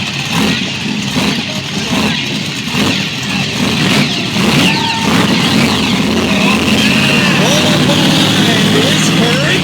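A 1957 Chevrolet monster truck roars and revs loudly throughout at a monster truck show, its engine noise dense and sustained amid arena ambience, with an announcer's voice likely mixed in.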